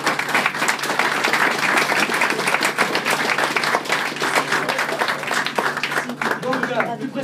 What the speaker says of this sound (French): je vous demande d'applaudir les administrations qui nous entourent depuis 2010